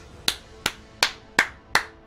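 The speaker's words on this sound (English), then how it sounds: "Let's just keep applauding." Five crisp hand claps at an even, moderate pace, each sharp and close, with quiet gaps between them.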